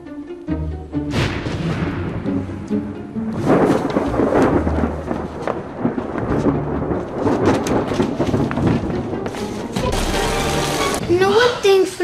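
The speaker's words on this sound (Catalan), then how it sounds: "Per què he provocat una tempesta?" A cartoon thunderstorm with loud rolling thunder crashes and steady rain, dense and continuous throughout, with a character's voice heard over the storm near the end.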